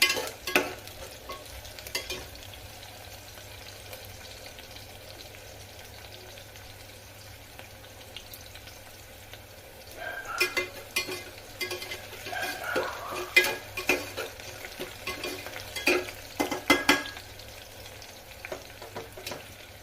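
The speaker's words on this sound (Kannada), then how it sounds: "ಈರುಳ್ಳಿ ಇವಾಗ ಫ್ರೈ ಆಗಿದೆ ಚೆನ್ನಾಗಿ" Onions sizzle in oil in a pan for spinach rice bath, a quiet steady fry that turns busier as a spatula scrapes and stirs in bursts during the second half, close up.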